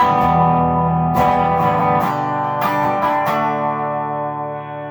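An electric guitar with a humbucker pickup rings out in sustained chords, its tone shifting subtly as the tone control with a 0.0047 capacitor is swept, a few fresh strums cutting in over a decaying clean sound.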